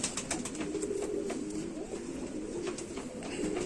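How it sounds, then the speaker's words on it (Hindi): Sialkoti pigeons, old green birds with white tail feathers, coo in low repeated rolling calls close by over a steady background hum. "प्योर सियालकोटी कबूतर, पुराने धीरे कबूतर इनको कहते हैं, दुम में सफेद पर, हरा कबूतर"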